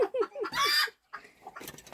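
A hen on a farmyard with ducks and chicks clucks in a few short, close calls that rise into a louder squawking burst, then softer scattered clucks follow amid light background noise.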